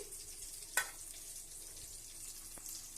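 Onions fry in a pan with a faint, steady sizzle, broken by one sharp clink of a utensil and light stirring scrapes nearby.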